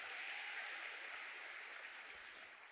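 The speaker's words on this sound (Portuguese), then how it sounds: "Pode dar uma salva de palmas a Jesus" Steady church audience applause, a dense wash of many hands clapping at moderate distance, sustained throughout without voices.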